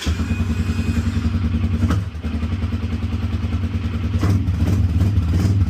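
An Arctic Cat 250 ATV engine starts up with the choke on and settles into a steady, loud, close idle with a low, even throbbing and a brief dip near the start.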